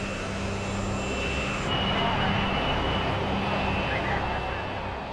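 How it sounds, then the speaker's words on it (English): A plane with no passengers and very little fuel accelerates down the runway toward takeoff speed, a broad steady jet roar with a high whine that swells slightly, while a voice talks over it. "With no passengers and very little fuel to weigh the plane down, it reaches takeoff speed in just 365 meters."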